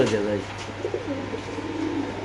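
Caged racer pigeons coo in a brief, soft burst that is partly overlapped by a voice.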